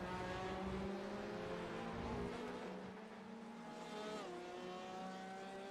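A Corvette race car in a Sebring endurance racing video game runs with a rough, uneven engine note, a steady loud drone whose pitch dips and shifts midway before holding again, with no talk over it.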